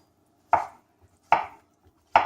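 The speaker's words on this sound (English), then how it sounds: "give it some nice quick slices through it all" Three crisp, evenly spaced knife chops through mushrooms on a cutting board, each a sharp close thunk with a short tail, separated by silence.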